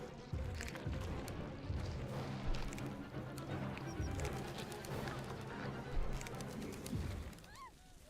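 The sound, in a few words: birds cooing in the video game Bye Sweet Carole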